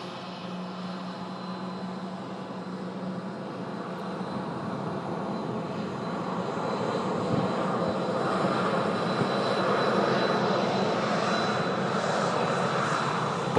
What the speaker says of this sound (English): Butter machine. Turkish Airlines A330. Smoothly done. It's a 300 series as well.